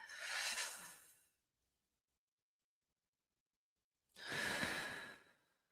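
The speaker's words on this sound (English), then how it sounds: "Let's just take a breath together for a second." A person takes a deep breath in and then lets it out, heard as a soft, airy rush; a long silent pause follows before a second, similar breath.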